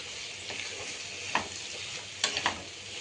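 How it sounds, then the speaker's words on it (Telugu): Chicken mince with ginger garlic paste frying in a pan makes a constant soft sizzle, punctuated by a few distinct scraping stirs, close by and without talking. "అల్లం వెల్లుల్లి పేస్టు మనకి చికెన్తోనే ఫ్రై అయిపోతుంది."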